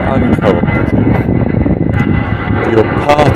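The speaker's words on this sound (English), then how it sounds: "that's a plane going from the airport of Wellington" A plane taking off from Wellington airport and flying up the bay, a steady broad engine roar that fills the background throughout, heard outdoors from the shoreline.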